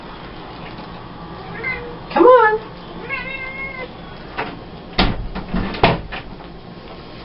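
A cat meows a few times nearby, short drawn-out calls, while someone briefly speaks; a couple of sharp knocks and clatters follow.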